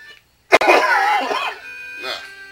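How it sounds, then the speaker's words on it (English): A person with allergies coughs, a sharp close burst followed by a rougher, trailing cough and a smaller throat-clearing sound after a brief pause. "sorry for coughing so much"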